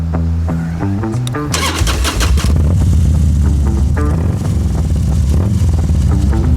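Motorcycles at the Sturgis Motorcycle Rally rev loudly and repeatedly nearby, throttle blips rising and falling over a continuous deep engine rumble.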